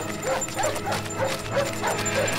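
A dog barks repeatedly in the Up video game, a rhythmic series of short yips with whimpery tones, moderately close and without speech.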